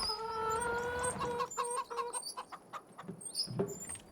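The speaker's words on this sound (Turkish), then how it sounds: "Manyak tavuk." Hens in the Farming Simulator 25 video game clucking close up, a run of rhythmic clucks followed by a few scattered sharper ones, with no speech.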